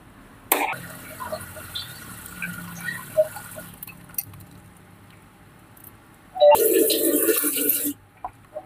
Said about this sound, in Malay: Kita masukkan air sikit.